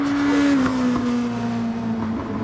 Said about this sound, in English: Here we go, downshifting.